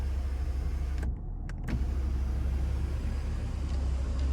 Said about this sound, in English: we have our power sunroof here, which we can one touch